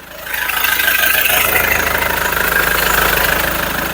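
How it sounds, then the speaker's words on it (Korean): A SsangYong Rexton Sports 4WD pickup engine idles steadily, a low even rumble with a faint rhythmic knock, close and fairly loud, echoing slightly in an enclosed indoor space. "엔진 소리 정말 정숙합니다"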